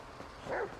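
Chop, the dog in Grand Theft Auto V, gives a single short bark, moderately close and fairly soft against a quiet game background.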